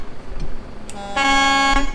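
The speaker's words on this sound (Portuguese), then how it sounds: "Não, você vai buzinar pra mim?" A Volvo bi-train truck hauling 44 tonnes of chocolate blasts its air horn in one loud, steady sustained honk after a short lead-in, heard up close over the rumble of the road.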